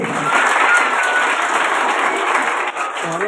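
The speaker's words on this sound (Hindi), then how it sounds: "इस बच्चे के लिए जोरदार ताली हो जानी चाहिए।" Loud, steady applause from a gathered crowd honouring a small child, continuous dense clapping without pause from start to finish.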